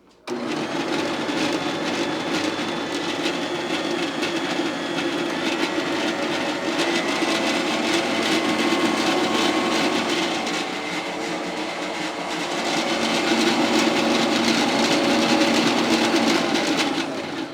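An electric stand mixer churns banana bread batter with a steady, loud motor whir that swells slightly toward the end, running alone without talk.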